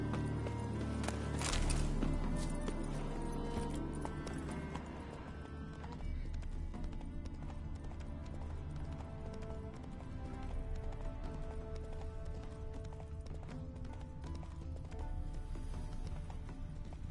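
Hooves of a horse clip-clop in a video game, steady rhythmic steps running under a bed of game music and ambience, moderately close and continuous.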